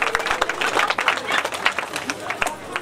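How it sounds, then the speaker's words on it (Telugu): An audience at a city fest prize ceremony claps in a short burst of fairly loud, uneven applause, with people talking over it. "అందరూ క్లాప్స్ కొట్టాలి"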